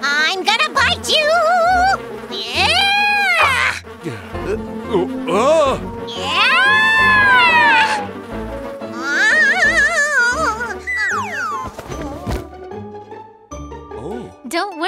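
Mosquito buzzing in a kids' cartoon song, a near, whining drone that swoops up and down in pitch across several passes, mixed with music and cartoon sound effects.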